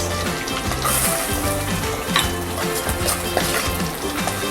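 Diced onions hit a hot pan and sizzle loudly and steadily, with occasional clinks of a utensil stirring against the pan.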